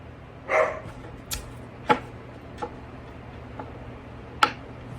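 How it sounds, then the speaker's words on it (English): A dog barks in a few sharp, separate bursts spread over several seconds, moderately distant and uneven in loudness, with quiet gaps between them and a low steady hum underneath. "The dog or the person left. He's like, so what? I'm still gonna bark."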